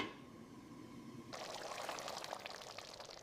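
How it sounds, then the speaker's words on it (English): Cooking liquid poured into a large bowl of seasoned beef, a faint steady trickling pour that starts abruptly partway through and continues to the end, quiet and close. "Now we add the cooking liquid"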